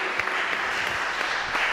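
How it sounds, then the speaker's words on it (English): Audience applause at a concert, a dense steady wash of clapping throughout, fairly loud and unbroken with no voices over it. "Give everybody a round of applause."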